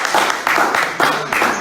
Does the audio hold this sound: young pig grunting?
no